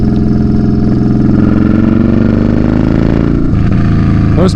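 A Yamaha Bolt cruiser motorcycle rumbles steadily through its exhaust pipes while riding, a loud, deep, even engine drone that shifts pitch slightly near the end as the throttle changes.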